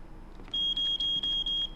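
Electronic beeping in the video game CASE: Animatronics, a single piercing high tone held steady for about a second, broken by a few quick dropouts, loud and near.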